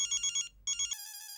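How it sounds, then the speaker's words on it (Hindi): An electronic phone ringtone for an incoming call plays close and clear: rapid pulsing trills in two bursts, then a sustained bright tone. "आया फोन आया"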